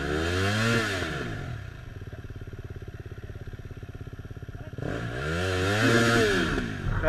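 Dirt bike climbing a steep Welsh trail, its engine revving hard close by, dropping to a rapid idling chug in the middle before surging again.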